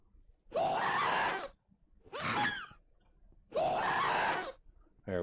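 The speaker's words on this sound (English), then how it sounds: "Now they're going to start screaming." Pink slimes in modded Minecraft let out loud, repeated wailing screams, four bursts in a row with short pauses between them, some with warbling, wavering pitch.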